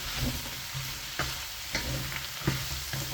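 Green beans frying in a pan for Filipino pancit, a steady loud sizzle with occasional stirring scrapes and clinks, close up and without talk.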